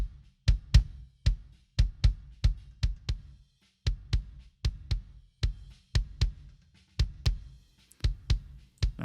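Kick drum processed through an Analog Obsession Fetish FET-style compressor plugin, thumping in a steady repeating pattern of punchy, slightly pumping hits, alone with no talk.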